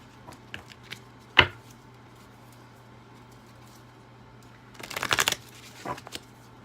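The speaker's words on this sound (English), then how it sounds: "Do a few shuffles here." Tarot cards being shuffled in short bursts, a quick riffle then a longer flurry, close and fairly quiet over a low steady hum.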